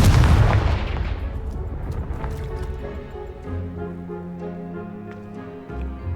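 A Confringo blast spell explodes in the Hogwarts Legacy video game, a loud booming burst at the start that decays into a long rumbling tail under a soft game music bed.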